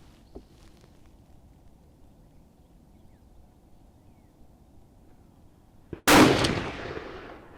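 A single rifle shot at a shooting range during resighting of a Mausingfield rifle, one sharp loud blast with a trailing echo after a long quiet stretch of faint ambient noise.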